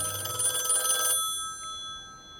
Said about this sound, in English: The heavy tension is broken by the shop's phone ringing.